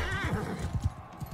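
A horse whinnies and its hooves clip-clop during mounted combat in the Mount and Blade Bannerlord video game, brief and fairly loud with a strained neigh over low thudding hoofbeats.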